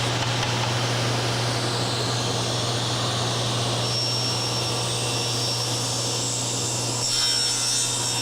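A table saw rips through wood in one continuous cut. A steady, loud blade whine and motor drone hold evenly over a low hum with no pauses, and no one talks.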